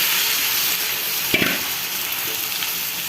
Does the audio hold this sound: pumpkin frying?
yes